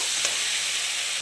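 Tomato and masala being stir-fried in a pan for a paneer sweet corn kurma, a steady close hiss of frying with a faint stir around a quarter second in, continuous for about a second before cutting off.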